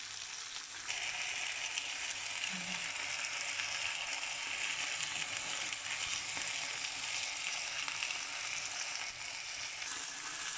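Samgyeopsal pork belly slices frying in a pan give a steady, close, hissing sizzle that holds at an even level throughout.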